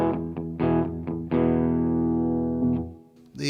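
Electric guitar played clean through a Strymon Iridium modeling amp with an EarthQuaker Special Cranker pedal: a short run of plucked notes, then a chord left ringing and slowly decaying, with a brief strum at the end.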